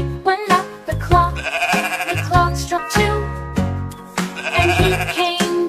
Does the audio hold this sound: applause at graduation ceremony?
no